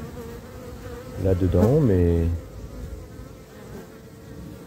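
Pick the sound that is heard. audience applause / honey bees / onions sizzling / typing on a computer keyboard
honey bees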